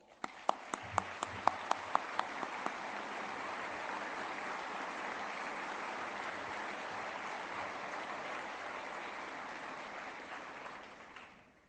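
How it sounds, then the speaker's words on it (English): An audience at a US Central Command change-of-command ceremony breaks into a round of applause, opening with a few distinct claps and swelling into steady, even clapping that fades at the end. "Please join me in a round of applause."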